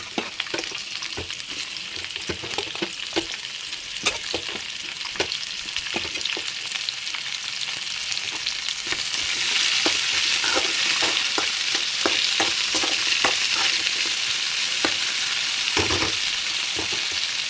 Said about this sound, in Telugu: కొద్దిగా ఆయిల్ వేసుకొని గోంగూర కాయలు అయితే వేంపి పెట్టుకుందాం